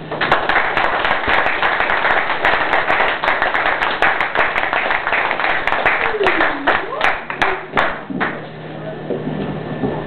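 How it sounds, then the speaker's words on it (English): An audience applauds with loud, dense clapping and some cheering, gradually thinning out toward the end. "Please give it up for Joseph, y'all."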